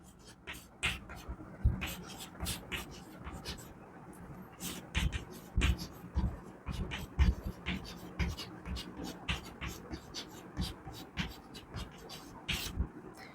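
Pen or chalk scratching out a calculus differentiation solution, brisk irregular strokes and taps running steadily throughout, close and fairly quiet with faint room noise.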